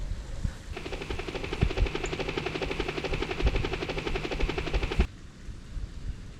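A helicopter drones with rapid rotor chopping for about four seconds, loud and steady, then cuts off abruptly, leaving quieter background noise.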